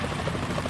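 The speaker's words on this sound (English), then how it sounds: "Is that a chopper I just heard?" A helicopter in Metal Gear Solid 2 makes a continuous loud rotor drone with fast chopping pulses, steady and close throughout, with no speech.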